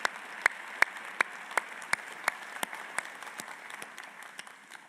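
Applause for a church choir at an Easter Sunday service, heard as sparse, distinct claps spaced steadily and thinning out toward the end, moderately distant in a quiet hall.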